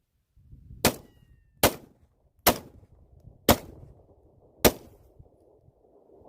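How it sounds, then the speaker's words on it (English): A handgun fires five sharp, loud shots spaced under a second apart, each crack ringing briefly before the next, with quiet between them. "now I'm going to just fire a few more rounds a little bit faster into the center"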